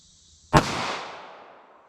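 A single 9mm pistol shot from a 4-inch barrel fired over a chronograph at an outdoor range, one sharp loud crack followed by a long decaying echo.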